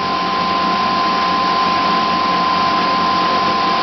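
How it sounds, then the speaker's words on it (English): An electric spin dryer loaded with a small mixed batch of cotton and synthetic washing runs at full speed, a loud, steady motor whine with a constant high tone and rushing hum, no voices over it. "So I'm going to turn the spin dryer off now and we can have a look at the washing."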